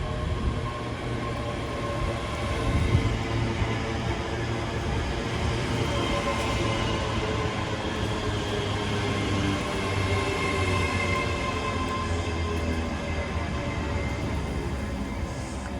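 A train at Motherwell station near Glasgow gives a steady low rumble with a sustained droning hum, holding at an even, fairly loud level from start to finish with no talk.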